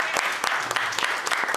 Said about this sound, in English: Can we clap our hands for this youth choir?